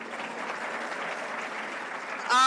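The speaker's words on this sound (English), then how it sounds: "you deserve to be clapped for, right?" Audience at a Kenya Kwanza leaders' event at Pwani University clapping for the Vice Chancellor, a dense, steady roar of many hands held at an even level throughout, then a sudden swell of louder sound at the end.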